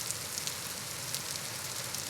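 Rain falls in the video game Vintage Story as a faint, steady patter, soft and even throughout with no voices.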